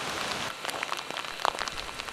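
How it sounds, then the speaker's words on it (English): Pouring rain falls during a mountain trek near Muktinath in Nepal, a steady dense hiss of drops striking surfaces with scattered sharper nearby splats. "We left Muktinath in the clouds and pouring rain, the only rainy day on the entire trek."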